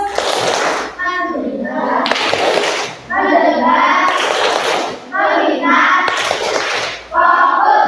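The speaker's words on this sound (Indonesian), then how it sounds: "saya ingin tepuk fokus dulu untuk kalian. Tepuk fokus." A class of children performs the rhythmic 'tepuk fokus' clapping routine, bursts of loud close clapping alternating with chanted voices in a repeating pattern.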